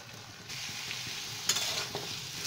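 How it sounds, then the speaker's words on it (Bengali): Katwa amaranth stalks dropped into hot oil and cooked spice paste in a pan, giving a steady close sizzle with stirring scrapes and a brief burst of louder crackle partway through. "এখন আমি এর মধ্যে দিয়ে দেব ডাটাগুলো"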